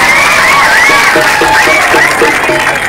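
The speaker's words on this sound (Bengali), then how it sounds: "একটা জোরদার হাততালি দিয়ে ওনাকে আমরা স্বাগত জানাচ্ছি" Crowd applause welcomes a guest at the opening ceremony of the MLA Cup 2024 tournament in Lakshmipur: steady, dense clapping with some cheering, heard under an amplified voice.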